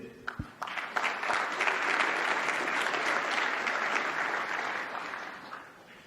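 A corporate sales kickoff audience breaks into applause, starting with a few scattered claps and swelling into a dense, sustained round that tapers slightly near the end.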